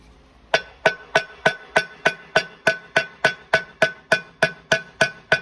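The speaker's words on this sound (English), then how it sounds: "then peen the rivets down with the ball peen hammer" A ball peen hammer peening rivets rings out in a steady, even rhythm, about fifteen sharp metallic strikes, close and clear with no talking.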